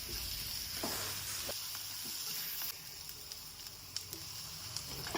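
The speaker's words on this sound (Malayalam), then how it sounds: "നന്നായിട്ട് വഴട്ടിയെടുക്കുകയാണ്, അതിൻ്റെ പച്ചമണമൊക്കെ മാറുന്നത് വരെ" Crushed green chilli, onion, ginger and turmeric sauté in a pan with a constant bright sizzle, broken by occasional scraping stirs and light taps, no voices over it.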